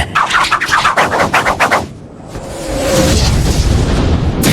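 Anime fire-style fireball jutsu explosion effect, a rapid series of heavy booming bursts followed by a sustained roaring rush of fire that swells and holds loud to the end, with no voices.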